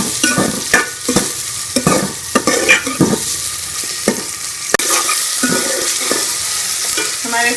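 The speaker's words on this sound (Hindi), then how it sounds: "हम ये प्याज डाल देंगे और इसको हम 1 से 2 मिनट के लिए फ्राई कर लेंगे।" Onions fry and sizzle in a hot pan on a home stove, a steady loud hiss broken by repeated scraping stirs, with no voices.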